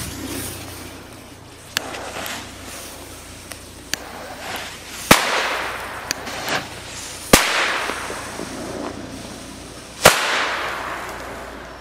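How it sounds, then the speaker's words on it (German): Komet B-class firecrackers go off one by one at irregular intervals in autumn, sharp bangs of varying loudness, the biggest three standing out over a hissing outdoor background. "jetzt ein paar B-Böller von Komet"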